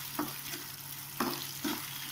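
Beef vada mixture fries in a pan while a utensil stirs it, a steady sizzle punctuated by three scraping stir strokes, close and clear with no voices.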